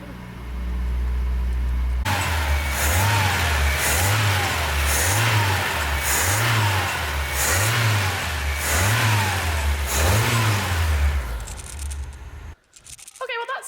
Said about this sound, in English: The E21 is finally running.